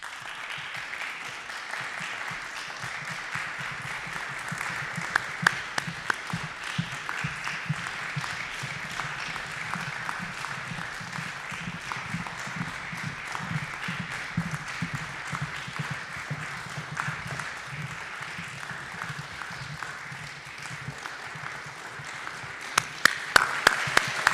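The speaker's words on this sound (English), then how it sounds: "I invite all of our performers on stage so we can give them a final round of applause" Applause from an audience for performers gathered on stage at a graduate exhibition performance: steady, dense clapping that continues throughout, swelling slightly near the end, with no voices.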